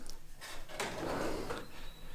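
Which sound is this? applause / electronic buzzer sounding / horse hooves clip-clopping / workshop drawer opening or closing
workshop drawer opening or closing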